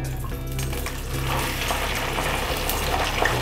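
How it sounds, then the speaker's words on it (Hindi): Okra (bhindi) deep frying in hot oil in a kadhai over a high flame, a steady, moderately loud bubbling hiss that runs throughout. "इसमें हम डीप फ्राई करेंगे भिंडी को डाल के"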